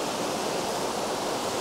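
Water at a woodland waterfall by a bridge at Dún a Rí in Ireland roars in a steady, loud, unbroken rush with no pauses.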